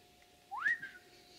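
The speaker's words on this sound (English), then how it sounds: "the clicking sound, and followed by that was this identical whistle" A single clear whistle rising then gently falling in pitch, heard alone in a forest at night against a quiet, still background with a faint steady hum.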